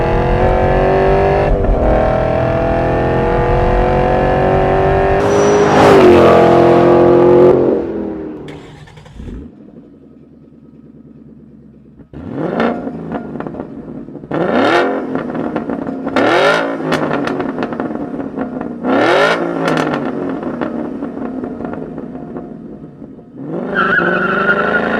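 A 2011 Ford Mustang GT 5.0 V8 fitted with a Borla exhaust revs hard and drives off, with loud engine roar, sharp throttle blips and tire squeal, then several more rising revs up close after a quieter idle stretch.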